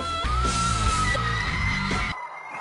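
Young women squeal and yell excitedly together in a loud, sustained burst of high-pitched voices that cuts off abruptly near the end.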